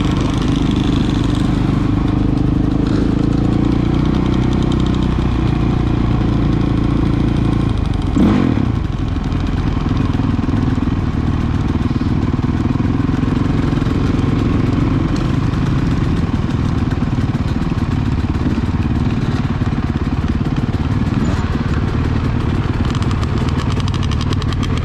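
Motorcycles rumble and idle steadily close by at a bike inspection during a valley fun run, a continuous low engine drone with a few clatters and small revs.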